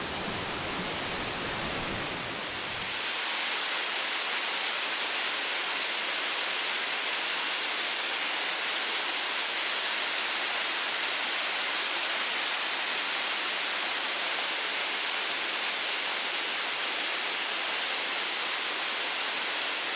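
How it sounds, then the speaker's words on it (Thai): A strong, steady roar of the Lang Hew waterfall pouring down behind a temple. After a brief, rougher opening, the rushing water fills the whole clip loud and unbroken, with no voices. "มาถึงได้ยินเสียงน้ำตก"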